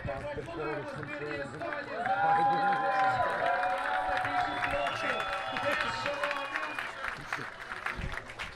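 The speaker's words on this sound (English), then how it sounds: "Big, big round of applause to the Estonians for never giving up" Crowd applause at a martial arts championship's men's 5 versus 5 pool fights: steady clapping and crowd noise swells after a couple of seconds and continues under an announcer's voice.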